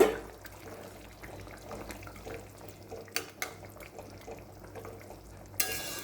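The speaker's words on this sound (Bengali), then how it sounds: "ঝোলটা ভালো করে ফুটে গেছে, তো এখন আমি মাছগুলো দিয়ে দেবো" Small fish go into a boiling curry sauce in a pan, with faint continuous bubbling and a few soft splashes and clinks, quiet and close.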